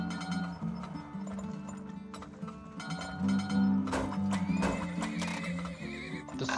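Horses neigh and whinny repeatedly in the Turmoil video game, with steady clip-clop hooves and busy game sounds layered throughout, loud and continuous.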